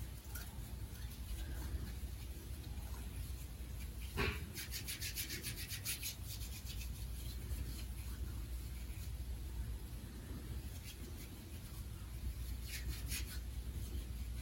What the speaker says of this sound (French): Je vais me laver les mains. Voilà, 20 secondes. Puis je me frotte, là, comme si c'était de la mousse.